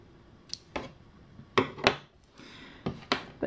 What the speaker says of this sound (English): Then what we're going to do is we're going to cut our main yarn.